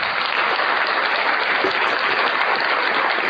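An English class claps for a correct answer, a loud, dense burst of clapping filling the room without a break for a few seconds.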